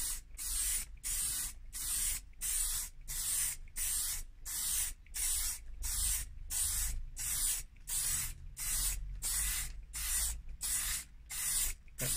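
Repeated short bursts from a spray gun laying a transverse coat of paint on a Nissan K11 centre fascia, about two dozen even hisses in a steady rhythm, close and loud with no talking.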